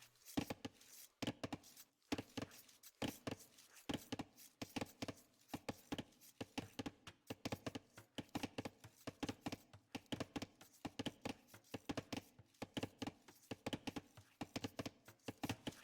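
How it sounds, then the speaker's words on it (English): Rhythmic wood chopping from villagers in the Age of Empires strategy game, a steady train of soft, evenly spaced thunks heard alone and fairly quiet throughout. "Yeah, it's peaceful chopping sounds."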